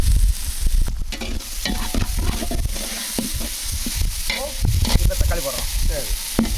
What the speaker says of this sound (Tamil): இப்போ வந்து இஞ்சி பூண்டு பேஸ்ட் போடுறோம்.